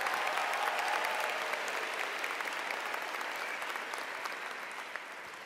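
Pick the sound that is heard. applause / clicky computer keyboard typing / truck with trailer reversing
applause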